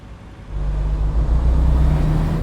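Jake brake engaging on a Western Star 49X truck in American Truck Simulator, a low, throbbing engine drone that swells after half a second and holds steady and loud before easing off at the end.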